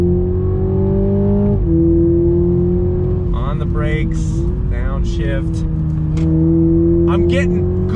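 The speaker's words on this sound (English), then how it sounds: "back on throttle here, third gear. On the brakes, downshift." Toyota Supra 2.0-litre four-cylinder turbo in third gear, loud steady engine drone from inside the cabin with a gear change and a slight pitch rise and dip, while someone talks over it throughout.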